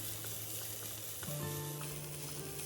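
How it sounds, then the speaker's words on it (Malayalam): Chopped onion with ginger and green chilli sizzles in a pan, a continuous close frying hiss with a faint tonal hum entering midway, and no talking. "ചോപ്പ് ചെയ്ത ഒരു മീഡിയം സൈസിൻ്റെ സവാള ചേർത്ത് കൊടുത്ത് അതൊന്ന് ട്രാൻസ്പെറൻ്റ് ആകുന്നവരെ ഒന്നോ രണ്ടോ മിനിറ്റ് ഒന്ന് വഴറ്റണം"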